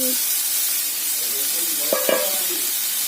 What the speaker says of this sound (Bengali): এই যে নিম পাতা ভেজে ভেজে নিই